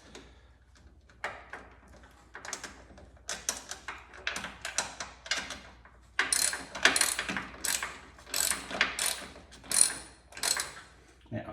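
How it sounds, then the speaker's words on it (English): A socket ratchet clicks in short repeated bursts while tightening a fitting on an old golf cart during accelerator mounting, the clicking close and loud with pauses between strokes. "I'm gonna get a socket now to go on that."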